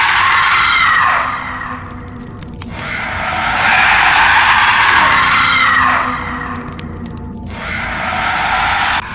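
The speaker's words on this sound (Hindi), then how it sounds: "भूत चीखने लगा।" A cartoon ghost screams as a roadside dhaba burns, a loud, harsh, sustained shriek that swells and fades in long waves, with nobody talking over it.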